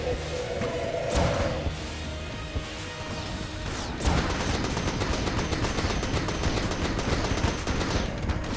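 Dense bursts of rapid gunfire from the Switch version of Enter the Gungeon, with bullet-hell shots crackling steadily and a sharper volley kicking in halfway through, loud and continuous over game music.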